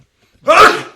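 A single sharp sneeze bursts out close and loud after a moment of near silence, then trails off quickly.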